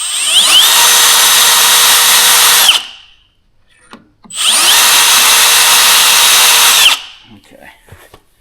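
A power drill bores into steel plate on the rusted frame of an EZGO TXT golf cart, two loud sustained whining bursts of roughly two and a half seconds each, separated by a short pause and followed by faint clinks.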